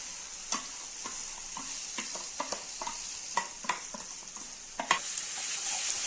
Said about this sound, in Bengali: এটা আবার একটু নেড়ে নেব।